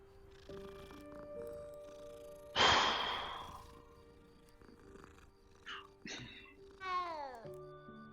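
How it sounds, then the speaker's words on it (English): A cat in Hogwarts Legacy gives several meows and a purring sigh, including one loud drawn-out cry, set against quiet game music and ambience, with someone talking briefly. "It's a cat."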